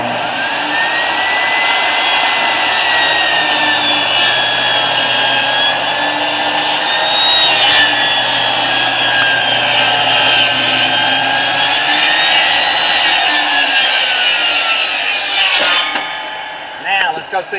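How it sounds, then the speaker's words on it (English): A table saw cuts wood with a loud, sustained whining buzz, close and steady for most of the run before the blade winds down and stops near the end. "I already got my table saw set up at 1/2 inch."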